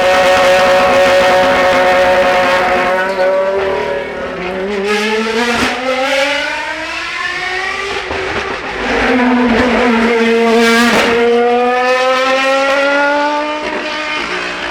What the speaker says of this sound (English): we're looking at a car here that really does hum